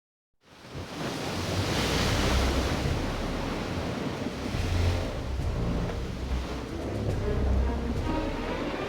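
Ocean waves in a video game as ships set sail into thickening fog, a broad steady wash of surf and wind fading in, then rolling on with gentle swells, fairly loud and without voices.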